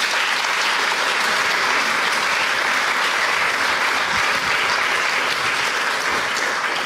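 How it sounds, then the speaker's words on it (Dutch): A large audience applauds at a public talk on youth and euthanasia. The clapping is dense and sustained at a steady, loud level throughout, with no speech over it. "Een hartelijk applaus eerst voor Amy de Schutter."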